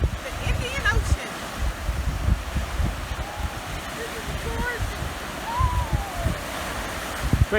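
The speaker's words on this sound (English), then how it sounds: "The Indian Ocean." Waves of the Indian Ocean wash onto a Zanzibar beach, a steady near rush of surf with wind buffeting the microphone, while people's voices and a faint bird call sound in the background.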